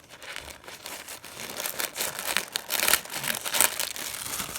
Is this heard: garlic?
no